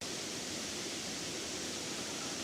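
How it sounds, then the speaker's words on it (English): Glenevin Waterfall near Clonmany, Donegal, dropping 40 feet into a pool, heard as a steady broad rushing roar that fills the air without a break, fairly close and with no voices. "The beautiful waterfall cascades down 40 feet into a pool known as Pullanis"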